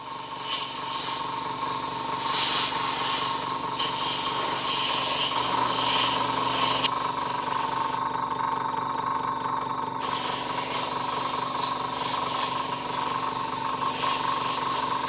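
Airbrush or spray can laying base coat paint over a landing pad stencil for a tabletop terrain piece, a continuous close hiss with a steady hum beneath and a few short bursts of spray.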